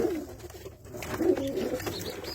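Young pigeons of white and smoky-grey breeds coo softly in a coop, a low warbling burble rising and falling through the whole moment with faint background rustle.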